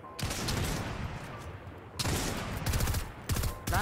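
Rapid gunfire in the Fortnite video game, with dense bursts of shots filling the whole stretch and stronger volleys near the end, loud and close.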